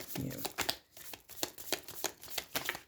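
A deck of tarot cards is riffled and bridged repeatedly at close range, with quick fluttering bursts in an irregular rhythm and faint movement between them.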